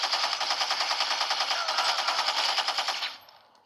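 Rapid automatic gunfire from the video game Gangstar Vegas, a steady, close, loud burst of evenly spaced shots lasting about three seconds before cutting off, with no talking.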